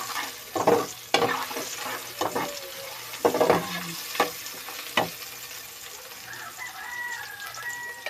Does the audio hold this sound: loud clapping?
no